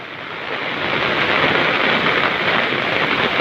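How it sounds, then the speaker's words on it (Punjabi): Dense, steady hiss of heavy rain, building slightly in the first second and then holding loud and continuous, with no voices. "ਮੀਂਹ ਹੱਲੀ ਵੀ ਬਹੁਤ ਤੇਜ਼ ਲੱਗਿਆ ਵਾ"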